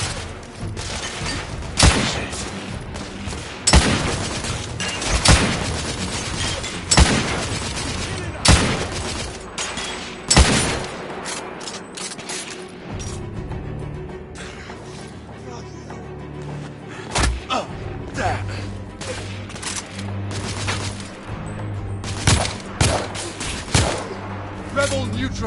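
Gunfire in a firefight from The Order: 1886, loud sharp shots and bursts coming in irregular clusters, some close and heavy, with a quieter stretch in the middle and shouting voices in between.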